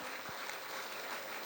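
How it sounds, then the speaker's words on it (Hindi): Faint applause from an audience welcoming a guest onto the stage at a memorial gathering, a soft steady patter of clapping heard from a distance. "हम सब तालियों से स्वागत करते हैं।"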